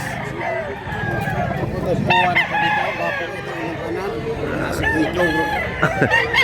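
Roosters crow repeatedly among fowl at a cockfighting gamecock gathering in Mantalungon, Cebu, with steady crowd murmur and people talking beneath the calls.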